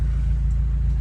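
A Subaru WRX with a catless J-pipe exhaust rumbles deeply while driving, a loud, steady low drone with a throbbing pulse heard from inside the car.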